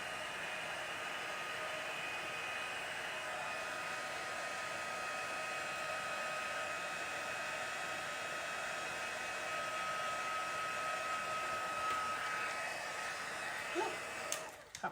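A heat tool blows a steady, even whoosh for about fourteen seconds while setting embossing powder on a handmade card, then it is switched off at the end.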